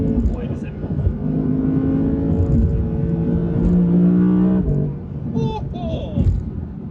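A 2022 Audi R8 with a V10 engine accelerates hard, its loud rising engine note and roar sweeping up and holding for several seconds before dropping away, with faint background noise near the end.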